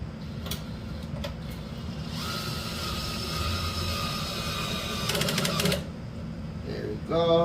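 A cordless power drill drives a screw into a wood chipper spreader assembly on a high torque setting, a whirring run of about three seconds with a ratcheting burst near the end, under quiet talk.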